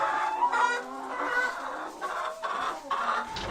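Several hens cluck and murmur close by, a continuous chorus of short, throaty calls overlapping one another.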